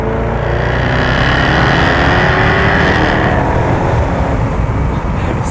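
A Jaguar F-Type V8 S with an 8-speed ZF automatic revs hard on a mountain pass road. The loud, close engine climbs in pitch, shifts and pulls again, with no talk over it.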